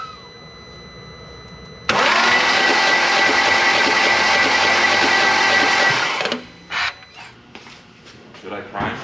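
The N55 engine of a BMW X5 cranks on its starter with a loud, steady churning whir for about four seconds without catching, then stops, followed by brief bursts of nearby talk.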